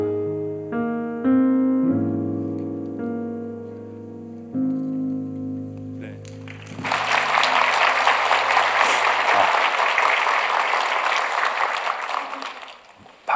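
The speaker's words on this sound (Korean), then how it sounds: "박수 받으려고 한 건 아니었지만" Congregation applause at a church Sunday service, breaking out loud and dense after a sung hymn with sustained tones, then filling the room as a broad steady wash of many hands for several seconds.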